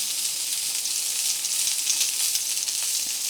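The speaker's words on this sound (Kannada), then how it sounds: "ಸ್ವಲ್ಪ ಈ ರೀತಿ ಇಟ್ಕೊಂಡು ಫ್ರೈ ಮಾಡಿ, ಯಾಕಂದರೆ ಈಚೆ ಸೈಡ್ ಸ್ವಲ್ಪ ಫ್ರೈ ಆಗಲಿ ಚೆನ್ನಾಗಿ" Bangude fish coated in masala fries in a pan with a steady, close hiss and sizzle of hot oil, continuous and fairly loud with no talk over it.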